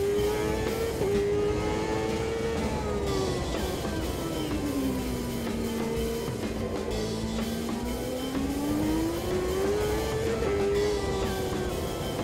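Race car engine in Automobilista 2 held steadily high on the revs through a corner in third gear, its loud continuous drone rising and falling in pitch with throttle across the lap, no voices over it.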